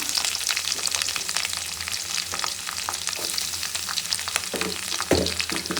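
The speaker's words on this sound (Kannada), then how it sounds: "ಈರುಳ್ಳಿಗೆ ಸ್ವಲ್ಪ ಉಪ್ಪು ಹಾಕೊಂಡು ಫ್ರೈ ಮಾಡ್ಕೊಳ್ಳೋಣ ಬೇಗ ಫ್ರೈ ಆಗುತ್ತೆ" Onions frying with salt in a pan for bisi bele bath: a dense, crackling sizzle throughout, with frequent clicks and scrapes of stirring close by and no talk.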